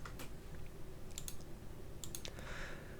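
Mouse clicks in CAD software, a few faint, close, sharp clicks scattered over a low background hum, with no talking.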